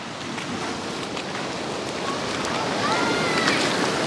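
Waves surging through a deep river crossing at Trindade, Brazil: a continuous broad wash of rushing water and surf that builds louder toward the end, with wind noise and excited voices shouting over it.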